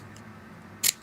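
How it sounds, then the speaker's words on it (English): A single quick snip of scissors cutting a slit in paper for a paper rosette, a short crisp close sound after a near-silent stretch. "what I'm going to do is just cut little slits almost to the top"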